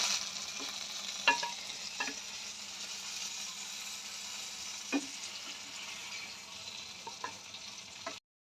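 Half-boiled eggplant pieces frying in oil in a home kitchen, a soft continuous sizzle with occasional utensil stirs and light scrapes scattered through, steady and close, no talking.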